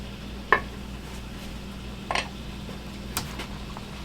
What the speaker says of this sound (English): I'm gonna stir this around a little better.